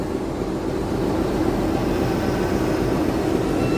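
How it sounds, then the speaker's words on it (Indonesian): An Indonesian fuel train hauled by a CC diesel locomotive, running from Malang Kota Lama toward Surabaya, makes a loud, steady, continuous rumble with no breaks and no talk. "Ini kereta api BBM dari Malang Kota Lama tujuan Benteng Surabaya."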